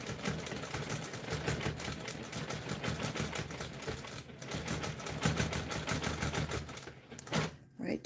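A sewing machine runs steadily up a quilt seam while free-motion quilting a custom quilt, giving a fast continuous mechanical whirr with a rapid needle rhythm. It is close and even, with one brief pause near the end.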